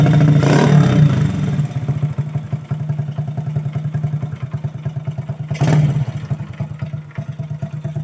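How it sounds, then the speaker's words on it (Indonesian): A Honda EX5 motorcycle engine idles with a rapid, chugging rhythm close by, revving up loudly at the start and again near the end. "Bobok sikit motor aku."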